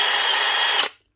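DeWalt DCD796 hammer drill, a unit in for repair stuck in hammer mode, whining steadily at full speed for about a second alone, then cutting off abruptly into silence.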